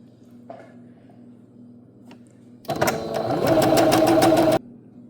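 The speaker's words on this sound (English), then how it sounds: "So this is just going to be a standard straight stitch with a 1/2 inch seam allowance." A sewing machine runs a standard straight stitch with a half-inch seam allowance, a steady close mechanical whir lasting about two seconds after a quiet start, with no talk.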